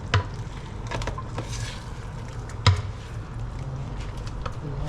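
A pot of soup with broth is stirred during home cooking, with soft liquid swishing and a low simmer underneath, plus a couple of sharp clinks of a utensil against the pot.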